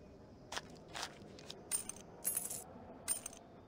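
Cartoon coins clink down one after another as change is handed back, several short metallic drops falling in quick succession against a quiet background.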